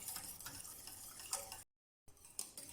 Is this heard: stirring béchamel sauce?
yes